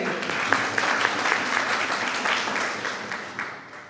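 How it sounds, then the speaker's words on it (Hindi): Sustained applause from an audience at a college gathering welcoming the head librarian of Ramdayalu Singh College, dense steady clapping throughout with no talking. "उनका स्वागत तालियों से करेंगे।"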